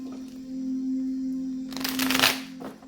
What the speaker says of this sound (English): Three more shuffles for Libra.